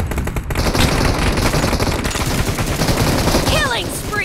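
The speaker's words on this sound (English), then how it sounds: "Firing." Sustained automatic gunfire in PUBG Mobile during a team deathmatch, a loud, rapid rattle of shots continuing for several seconds, ending with a few whizzing ricochet-like effects.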